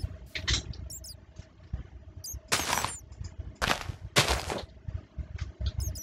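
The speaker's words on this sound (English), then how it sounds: "we're going to do a few mini explosions, as usual, like the last one" Mini explosions blowing up a Lego lab, heard as several sharp, loud bursts at irregular intervals, with crackling debris and small clatters between them and no talking.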